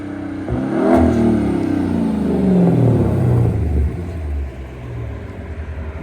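A car's exhaust roars past in a fly-by, building to a deep rumbling rev and then fading as the engine note drops, heard outdoors with no talk over it.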